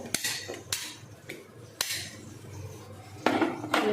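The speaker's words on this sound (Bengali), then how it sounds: "আমি লঙ্কা দিয়ে একবারে বেটে নেব" Chilies ground by hand on a stone for a homemade winter dish, heard as sharp, close knocking and scraping strikes at an irregular pace.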